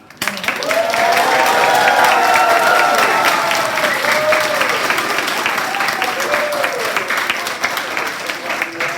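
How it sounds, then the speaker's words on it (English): A school group cheers and applauds together, with loud, sustained clapping and voices rising in a near, dense crowd that holds for several seconds before easing slightly. "So everyone at the school, big cheer and thank you for Ricky."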